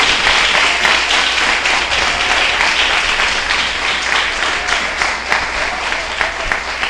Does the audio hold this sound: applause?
yes